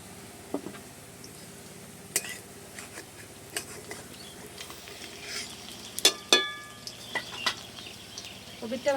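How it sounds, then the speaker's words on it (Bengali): Jute-leaf vegetable fritters (bora) frying in hot oil as they are stirred and turned, with a soft continuous sizzle broken by close, sharp clinks and scrapes of a utensil against the pan. "পিঠ ঘুরিয়ে এপিঠ ওপিঠ করে সুন্দর করে নেড়ে চেড়ে বেশ সুন্দর লাল করে ভেজে নেব"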